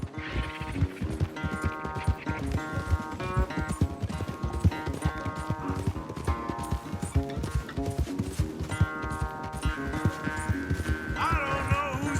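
In Red Dead Redemption 2, a horse gallops in a race with steady, rapid hoofbeats close by, continuous throughout, while music plays and a voice occasionally speaks over it.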